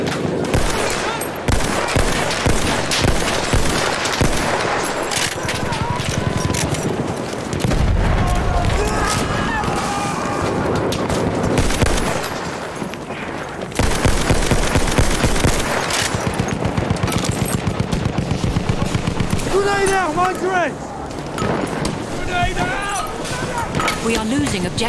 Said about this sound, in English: Is there an enemy machine gun?